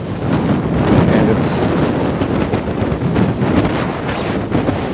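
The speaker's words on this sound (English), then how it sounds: "we are getting completely blown away here. It is windy." Strong gusts batter the microphone at the Toronto Port Lands waterfront, a loud, continuous roar of wind buffeting with broadband rumble throughout, while a person speaks briefly over it.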